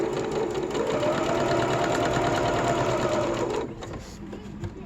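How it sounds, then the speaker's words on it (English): A sewing machine stitches twill tape onto a fabric mask, running steadily and loud for nearly four seconds with a rapid even whir, then stopping and leaving a quieter handling noise. "And then sew up."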